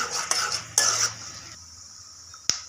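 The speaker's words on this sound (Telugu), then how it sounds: "పచ్చిమిరపప్పు వేసుకున్నాం, కొంచెం ఆయిల్ హీట్ అయింది, పల్లీలు కొంచెం ఫ్రై చేసుకోవాలి బాగా" Peanuts frying in hot oil with green chillies in a pan for tomato poha, with close metal spoon scrapes and clinks against the vessel, a couple of sharp taps, and a faint sizzle underneath.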